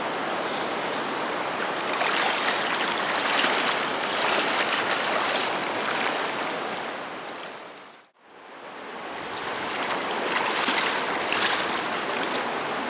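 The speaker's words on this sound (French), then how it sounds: "la rivière était démontée, limite pêchable" Swollen, fast-flowing river rushing loudly and continuously, a dense steady roar of churning water that briefly cuts out before resuming.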